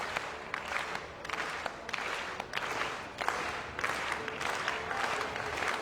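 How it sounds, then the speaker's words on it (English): Italian spectators at the 2016 IPC Athletics European Championships in Grosseto keep up steady, dense applause from a large stadium crowd, with rhythmic swells of clapping throughout and no clear speech. "Support from the Italian crowd."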